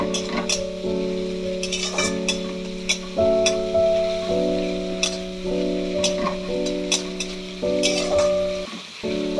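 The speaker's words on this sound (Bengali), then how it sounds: "পেঁয়াজটাকে ভালো করে লাল লাল করে ভাজতে হবে" Onions sizzle in hot oil in a pan while being stirred, with a steady frying hiss broken by frequent clinks and scrapes of the spoon, heard up close with no talk.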